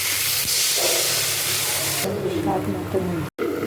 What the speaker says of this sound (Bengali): এর মধ্যে এবার একটু জল দিয়ে দেবো